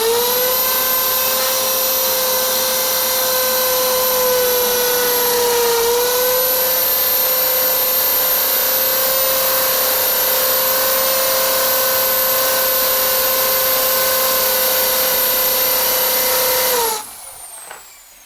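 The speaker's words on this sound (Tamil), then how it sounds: "இப்போ அந்த பெரிய ட்ரில் பிட்டை வச்சு ஓட்ட போட்டு பார்க்கலாம் எந்த அளவுக்கு ரெஸ்பான்ஸ் கிடைக்குதுன்னு" A power drill fitted with a large step drill bit runs continuously at a loud, steady, high whine for about seventeen seconds before spinning down and stopping abruptly.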